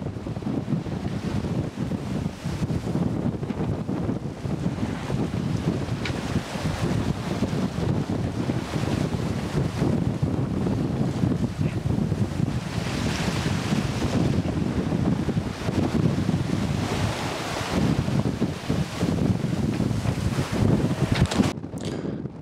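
Strong wind at sea buffets the microphone in a steady, loud rush, with waves and water washing around a moving sailboat throughout.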